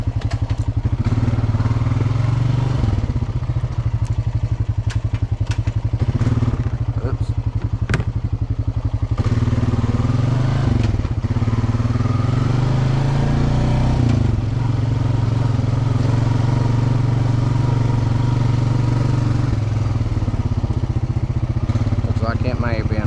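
Off-road motorcycle riding along the outer edge of an intermediate-to-difficult trail at Hatfield-McCoy, its engine droning loud and steady throughout with clattering over rough ground.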